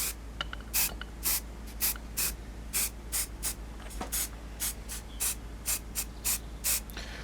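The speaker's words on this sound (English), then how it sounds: "So all we do is a light mist over the top." Short, sharp bursts of aerosol spray, roughly a dozen irregular puffs, lay a light mist over a Polyfilla model road for texture, close and crisp over a steady low hum.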